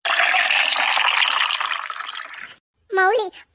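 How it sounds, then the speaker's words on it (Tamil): Milk poured onto bread fried brown on both sides in a pan gives a loud, bubbling hiss for about two and a half seconds, then cuts off before a brief voice speaks. "பால் ஊத்தும் போது சவுண்ட் எப்படி கேக்குது கொட கொட கொட கொட"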